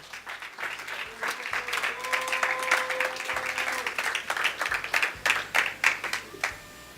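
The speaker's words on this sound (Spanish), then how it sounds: "Dele un aplauso al Señor" A church congregation applauds warmly for several seconds, the clapping swelling and continuing steadily, with some voices and a sustained tone underneath.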